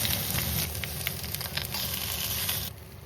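Lamb chops sizzle steadily in a nonstick frying pan, with a dense crackling hiss that softens near the end.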